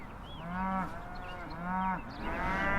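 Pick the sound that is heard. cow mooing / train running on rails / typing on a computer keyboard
cow mooing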